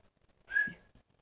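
A single short whistled note from a person, clear and close, rising briefly out of near silence and fading within about half a second.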